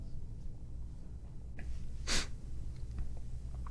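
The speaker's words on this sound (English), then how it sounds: "I feel a sneeze coming on." A single short, breathy sneeze bursts out once, close by, against a low steady background hum.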